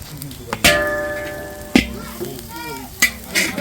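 Spices fry in hot oil in a pan while being stirred, a sizzling hiss broken by several sharp clatters of a spatula against the pan, with a tonal ringing in between.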